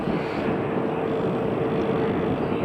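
A Pilatus PC-24 jet taxiing at Manchester Airport gives off a steady, distant engine whine and rumble with a faint tonal hum, unbroken and without talk.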